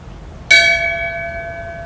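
A single bell struck once at a memorial tribute ceremony, a clear sharp strike followed by a long, steady ringing decay, alone and close.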